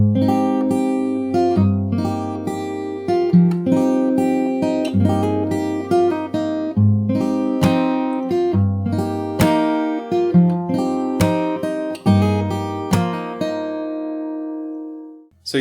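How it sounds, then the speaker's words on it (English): Fingerstyle acoustic guitar playing the pre-chorus of a song: close, clean plucked bass notes and chord tones in a steady flowing pattern, ending on a final chord left ringing out. "And after that we have the pre-chorus,"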